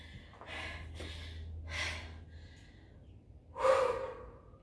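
Heavy, gasping breaths with sharp inhales and a snort after a boot camp workout, four distinct breaths close to the mic, alone with no talking.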